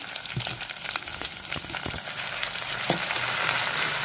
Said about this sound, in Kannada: ನೋಡಿ, ಈಗ ಟೊಮೊಟೊ ಕೂಡ ಹಾಕ್ತಾಯಿದ್ದೀನಿ.